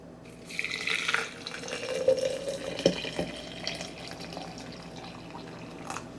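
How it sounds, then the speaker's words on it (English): Water pours from a tap or kettle over lemon balm to steep tea in a home kitchen, a steady close splashing fill for several seconds that tapers off, with no talking. "add our water."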